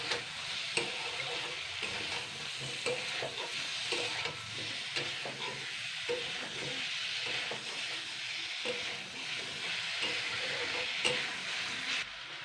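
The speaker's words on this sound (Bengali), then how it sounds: "আমি কিন্তু 2 মিনিট মতো নাড়াচাড়া করে নিয়েছি" Drumsticks and potatoes fry with ground spices in a pan, a steady loud sizzle and hiss with continuous scraping and stirring clatter, close up and unbroken for several seconds.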